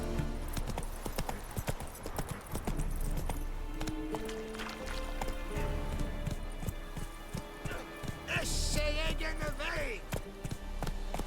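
Roach, a horse in the video game The Witcher 3: Wild Hunt, gallops with rapid, rhythmic clip-clopping hooves, close and prominent, with a brief neigh and some speech over game sounds.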